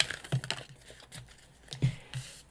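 A deck of oracle cards being shuffled by hand, giving soft papery slaps and riffles in a few short bursts, close and fairly quiet.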